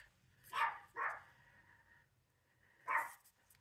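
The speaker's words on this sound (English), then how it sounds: "what's she barking at?" A dog barks indoors, two quick barks followed by a third after a pause, moderately near but fairly soft.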